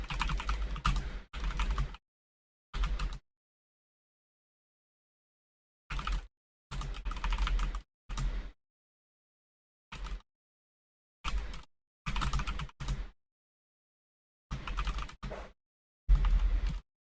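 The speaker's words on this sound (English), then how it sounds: "Typing." Someone types on a computer keyboard in short bursts of rapid key clicks, close and crisp, with dead silence between each burst.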